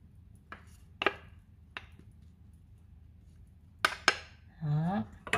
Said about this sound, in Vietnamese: Mình có thể cho vào những cái đĩa xôi.